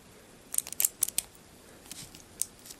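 Small plastic Kamen Rider Drive toy tire snapping onto a Type Wild action figure: a quick cluster of sharp, close plastic clicks, then a couple of lighter clicks a moment later.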